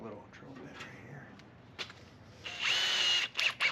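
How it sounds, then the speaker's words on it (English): A power drill bores into the metal tail light tray of a 1970 Nova, whirring in a loud burst near the end after quieter handling noises and short knocks, with a brief stop-and-start at the finish. "So let's drill that and see if we can get that to come out."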